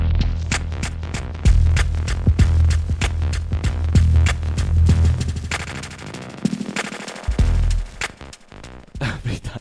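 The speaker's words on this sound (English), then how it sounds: "So up and down is the filter, and left or right is the size of the echo." Rane DJ mixer with a filter and echo effect applied to music: rapid rhythmic pulses sweep up and down in tone, with echoing repeats and loud bursts that stutter and fade, and no talking over it.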